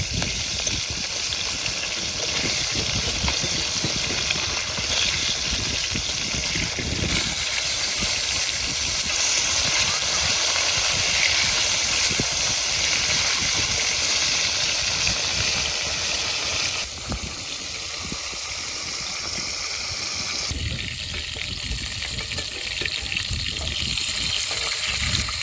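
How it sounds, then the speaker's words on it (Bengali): Koi fish frying in hot oil, village style, a steady loud sizzling hiss that runs throughout with slight shifts in intensity, close and continuous. "আমাদের এখানে মাছগুলো ভাজা হয়েছে"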